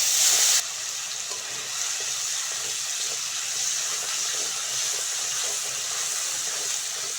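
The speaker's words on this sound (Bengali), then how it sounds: "মশলাটা ভালো করে কষে নিয়েছি।" Ground spice paste frying in a pan, a dense, steady hiss of sizzling oil that stays even throughout, close and with no voices.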